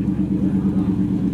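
2018 Mercedes E63S at a car meet, its engine idling with a deep, steady rumble and a slightly pulsing burble, close and loud, with no talking.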